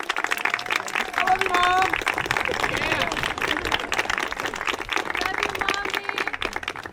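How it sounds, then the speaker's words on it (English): Graduation crowd applauding and cheering, brisk close clapping mixed with whoops and excited shouts, while individual voices call out through the noise. "give them a huge round of applause"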